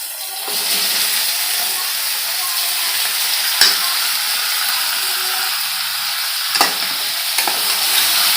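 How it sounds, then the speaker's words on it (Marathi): Chicken pieces sautéing in hot garam masala in a pan, a loud steady sizzle and hiss with occasional scrapes and clinks of a stirring spoon, no talk. "चिकन टाकून घेऊया"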